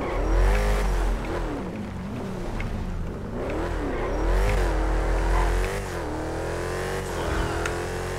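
A Hellcat Ram truck's engine in GTA 5 roleplay revs loudly and continuously, its pitch rising and falling in repeated waves with a deep rumble throughout and no talking.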